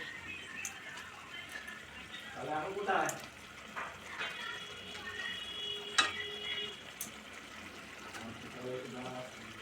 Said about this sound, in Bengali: সসটা ফুটে গেছে, এবার স্যাটেগুলো ছেড়ে দেবো আস্তে আস্তে।